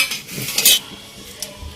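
Green cardamom pods and whole garam masala spices dropping into hot oil in a pan, giving a brief clatter and soft sizzle with a sharper crackle burst midway, close and alone without talk.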